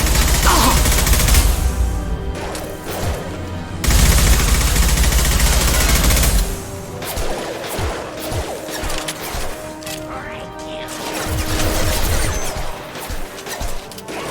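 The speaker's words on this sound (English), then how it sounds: "Firing now." Gunfire rings out in the video game Mass Effect 2. Loud sustained bursts of shooting and crashing impacts give way to sharper scattered shots and clanks, and a brief voice can be heard.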